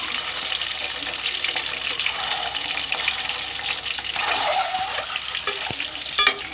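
Egg curry ingredients frying in a pan until golden brown, a steady loud sizzle with watery bubbling and a few soft stirring scrapes, close up.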